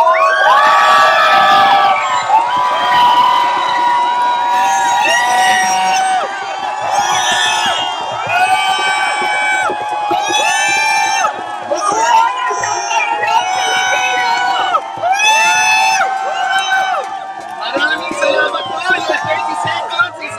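A large crowd gathered outside awaiting a Supreme Court ruling on the RH law erupts in loud cheering, whooping and shouting with clapping mixed in, sustained and energetic for about twenty seconds, with high children's shouts and overlapping voices throughout.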